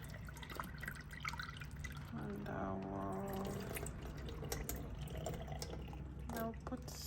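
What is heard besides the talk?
draining water from rinsed red speckled beans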